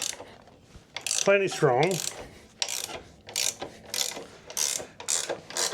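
A flex head ratcheting wrench from a metric and SAE set breaks loose a motorcycle bolt torqued to 43 inch-pounds. A loud creak is followed by a run of quick ratchet clicks in short bursts, close up, with a brief spoken remark.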